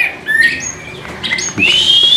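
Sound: pet bird calling

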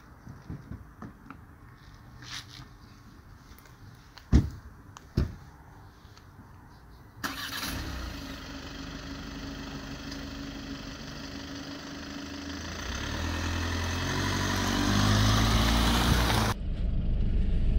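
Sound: Volkswagen Passat 2020 engine starting and idling

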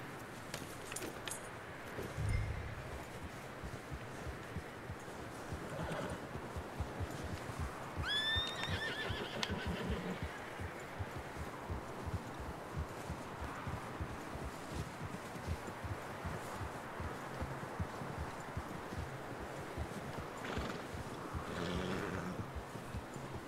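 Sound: horse whinnying and hooves in Red Dead Redemption 2 video game

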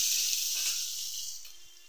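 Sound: eggplant frying in oil

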